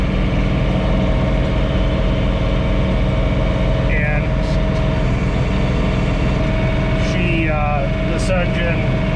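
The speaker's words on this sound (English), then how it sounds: "this is a John Deere with a 46 horsepower Yanmar engine." A John Deere 3046R compact tractor with a 46-horsepower Yanmar engine runs steadily at idle outdoors in snow, a constant low throbbing drone with brief higher squeaks and rattles over it.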